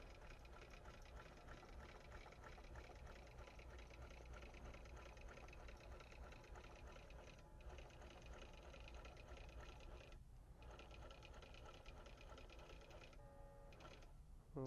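A quilting sewing machine runs steadily, stitching edge to edge across a quilt in a studio, with continuous rapid mechanical whirring and ticking, broken by a few brief pauses, quiet and close.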